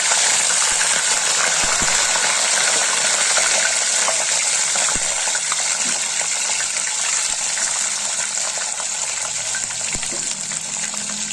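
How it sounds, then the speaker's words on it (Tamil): Mustard seeds spluttering and crackling in hot oil in a pan while a Tamil-style prawn pickle is cooked, a loud, continuous hissing sizzle that stays dense and even the whole way through with no voices. "கடுகு பொரியுது"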